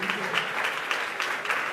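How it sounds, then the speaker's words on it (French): A church congregation at a women's conference applauds the pastor, a dense and steady burst of many hands clapping, fairly loud and sustained with no talk over it. "vous pouvez venir debout afin que la communauté vous applaudissez pour le grand pasteur."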